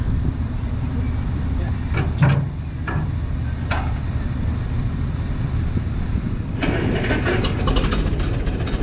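A vintage GB LP tractor engine at a farm museum show cranks with short sharp bursts, then settles into a loud, steady rumble close by. Some voices can be heard faintly in the background.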